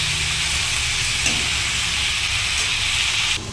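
Pork fries in a pan on medium flame, a loud, steady sizzle and hiss up close that holds throughout and then dips slightly near the end.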